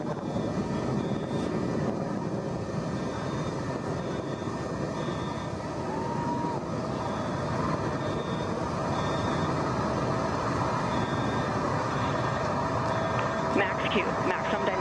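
The BE-3 engine of a New Shepard rocket roars steadily during ascent, a dense, continuous rumble heard at a distance, with a voice talking over it throughout.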